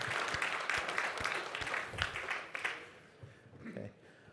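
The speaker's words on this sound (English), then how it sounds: "So give everybody a round of applause for that." A conference audience at a RISC-V industry event gives a round of applause, moderate clapping that thins out and fades toward the end, heard from some distance.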